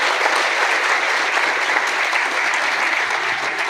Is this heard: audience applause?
yes